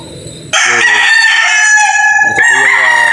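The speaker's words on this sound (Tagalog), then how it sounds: "Ito po yung mga ilalaban yung manok." Gamefowl roosters, including Gilmore and gray birds, crow at a game farm in Batangas; one loud, close, drawn-out crow dominates after a brief quiet start, followed by the start of another crow.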